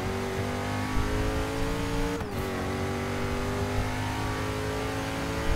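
An Agera sports car accelerates hard on the Daytona Sports Car Circuit, its engine a steady loud roar with rising pitch and a brief gear shift midway, held close throughout.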